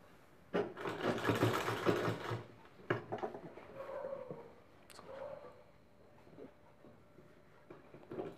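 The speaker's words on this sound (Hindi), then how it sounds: "इसको किनारे किनारे हमें पूरा गोल सिलाई यहाँ पर लगाना है" A sewing machine stitches round the edge of a handmade potli bag in a few short bursts separated by pauses and handling clatter, close and fairly quiet.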